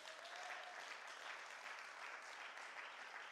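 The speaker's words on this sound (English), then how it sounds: "Go on and clap your hands for the fathers." A church congregation claps for the fathers during a service: steady, dense applause from many hands fills the room, fairly quiet and even throughout with no one speaking over it.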